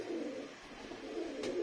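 Close, steady cooing from a pen of Madrasi pigeons, low throaty calls rolling on without pause, with a brief faint rustle near the end.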